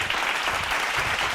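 Applause at a Bible study gathering, a short steady burst of many hands clapping together, fairly close and even throughout.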